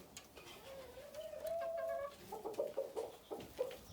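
A Pekin bantam chicken clucks and croons in a rising, drawn-out call followed by several short clucks, moderately close in a quiet setting.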